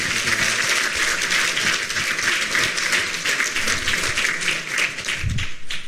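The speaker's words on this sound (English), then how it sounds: "So I think another round of applause." Steady audience applause at a lecture evening, a dense wash of many hands clapping continuously for several seconds, fairly close and even in loudness.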